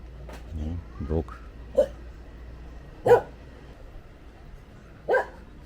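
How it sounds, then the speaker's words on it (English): A dog barks three times at spaced intervals, at moderate distance, on a residential street lined with apartment blocks in Angeles City, Philippines; faint voices are heard early on. "Dog."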